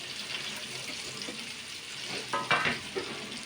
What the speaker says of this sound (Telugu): కట్ చేసుకున్న దొండకాయలు ఉన్నాయి కదా ఇందులో వేసుకొని ఫ్రై చేసుకోవాలి